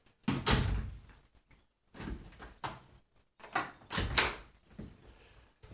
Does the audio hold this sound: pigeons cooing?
no